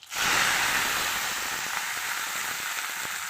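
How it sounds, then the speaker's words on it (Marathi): Mustard seeds and cumin dropped into hot oil, a sudden loud burst of sizzling that settles into a dense, steady hiss with faint crackles, heard up close without talk. "जिरे मोहरी छान तडतडली की ह्याच्यात टाकून मी पाच"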